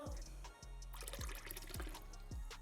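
Water pours from a spring-water cooler into a container, a steady splashing, gurgling stream running close and fairly loud through the whole stretch, with repeated low glugging pulses from the bottle about every half second.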